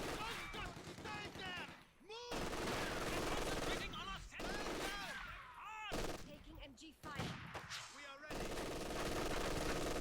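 Machine gun fire in Company of Heroes 2, bursts of automatic shots chattering beneath a caster's excited commentary that runs almost continuously over the battle noise.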